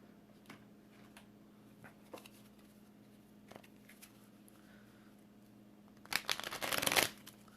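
Oracle clarity cards are shuffled in a quick, dense riffling burst near the end, following a few faint scattered taps over a quiet room hum.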